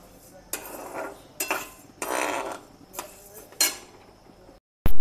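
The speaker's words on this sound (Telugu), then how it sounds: "గోధుమలు వేస్తాను. ఇవి కూడా దోరగా వేయించుకుందాం." Wheat grains roast in a pan and are stirred, giving several separate scraping, rattling strokes of a utensil against the pan with quiet gaps between them.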